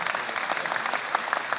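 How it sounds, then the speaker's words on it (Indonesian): A crowd at an Indonesian political talk claps steadily in a dense, crackling burst of applause that lasts under two seconds, fairly close and without pause. "Tepuk tangan."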